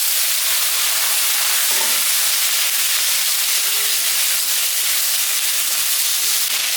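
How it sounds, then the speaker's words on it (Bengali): Potato and eggplant pieces fry in a pan over onions for a rohu fish curry, giving a steady, close, loud sizzle and hiss throughout with no voices. "আলু বেগুনটা ভাজা হয়ে গেছে"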